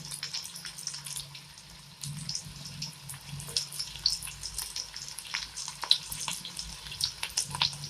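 Banana flower fritters are dropped into hot oil one by one and begin to fry, producing a soft, crackling sizzle with scattered pops and spatters that grows busier after the first pieces go in. No one speaks.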